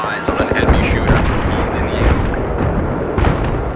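Mortar fire in a video game: dense, repeated booming blasts and bursts of battlefield noise run steadily throughout, with players talking over them.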